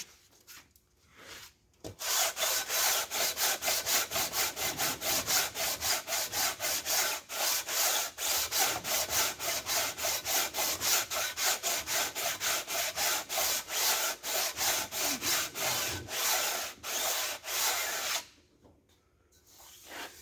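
An aluminum intake manifold from a small-block Chevy is sanded with 80-grit abrasive. Loud, close, rapid back-and-forth scraping strokes run steadily and rhythmically for about sixteen seconds before stopping.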